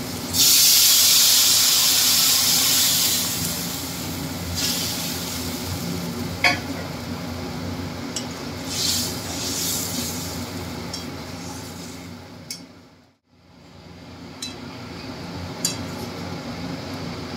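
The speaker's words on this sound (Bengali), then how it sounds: "গরম জলটা আমি এখন মাছের ঝোলে দিয়ে দেবো।" Hot water is poured into a simmering thin bata fish curry with green chillies, giving a loud hissing burst at first that settles into a softer sizzle with occasional clinks, briefly cutting out near the end.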